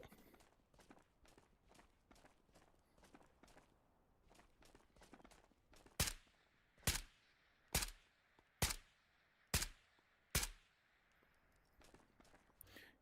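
Gunfire in the video game Tabor, six sharp, loud shots spaced roughly a second apart, following a stretch of quieter rapid footstep-like clicks.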